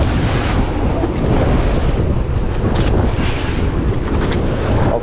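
Strong wind blowing at sea during a fishing trip by boat, a loud continuous roar and buffeting against the microphone with a wash of water underneath, and no talking.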